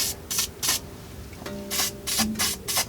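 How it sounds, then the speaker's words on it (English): Penetrating oil sprays onto car suspension bolts in several short hissing bursts, some close together, with faint rubbing and clinking between them. "take your penetrating oil and just spray down the friction surfaces"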